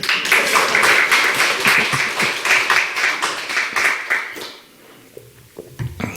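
A congregation at a church New Year revival service claps in a quick, fairly regular rhythm for about four seconds. The clapping then fades into a few scattered taps and room noise.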